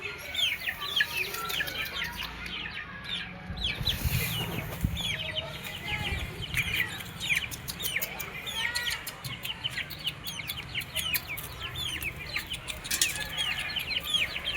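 Parrot-beak chickens and chicks on a farm in Purulia cluck and chirp in quick, busy bursts, with brief wing flaps and a faint voice in the background.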